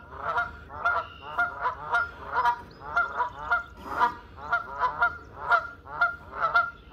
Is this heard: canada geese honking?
yes